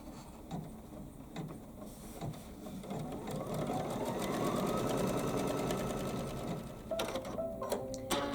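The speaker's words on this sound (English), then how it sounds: "So I'm going to put it back into my embroidery machine, and I'm just going to kind of babysit it and keep everything flat while it sews it down." An embroidery machine stitches down a quilt project, a rapid steady mechanical chatter at close range that runs continuously and changes pace slightly near the end.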